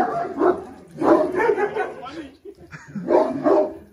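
Dogs bark in repeated bursts at a rural home, close and loud, in clusters of barks separated by short pauses, with people talking in the background.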